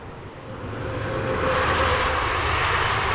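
An Airbus A330 airliner passes at Heathrow Airport, a steady broadband engine roar that swells louder over the first second and a half and then holds close and sustained, with no voices.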